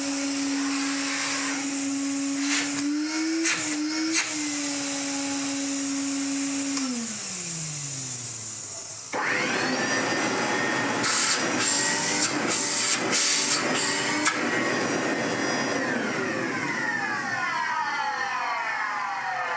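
A 1970s Hoover 427 vacuum cleaner motor whines steadily, then winds down in pitch; a second vacuum with the same motor starts up with a harsher, louder roar and hiss.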